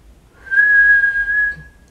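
A person whistles one clear, steady tone that holds for just over a second, close and fairly loud, with no other sound around it.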